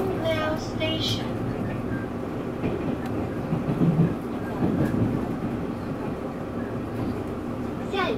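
A Taiwan Railways Tze-Chiang express train arrives at Fangliao station with a steady, loud rumble and rolling wheel noise, while an onboard announcement voice speaks over it.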